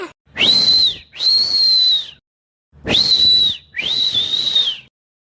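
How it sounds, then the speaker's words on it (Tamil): A person whistles four loud, sustained high notes in two pairs with a short pause between the pairs, close and alone with no other sound. "நான் பாட்டுக்கு விசில் அடிச்சிட்டு இருக்கிறேன்"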